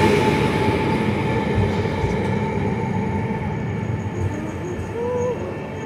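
An EN76 electric multiple unit train of Koleje Małopolskie rumbles steadily close by as it pulls into Kraków Główny station, with a broad rolling roar, faint wheel squeal and a low electric hum.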